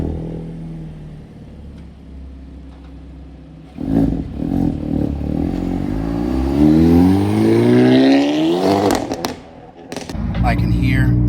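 A 2024 Hyundai Elantra N's engine grumbles at 2,500 rpm in third gear, heard from inside the cabin as a low rumble that rises into a revving, accelerating drone, with a voice talking over parts.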